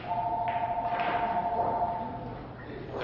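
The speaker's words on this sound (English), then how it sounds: "There goes the house phone once again." A house phone rings at a snooker championship final, a steady electronic trill of two close tones lasting about two seconds, fairly faint under the hall's ambience and a bit of background voice.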